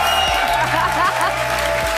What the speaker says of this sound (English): can I get a huge round of applause for Rod Ferguson and Ryan Cleveland